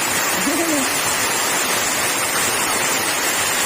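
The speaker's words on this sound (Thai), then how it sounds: "ฝนตก ไปต่อบ่ได้ครับ" Heavy rain pours in a forest at night around half past three in the morning, a dense, unbroken hiss throughout, with one brief higher-pitched call early on.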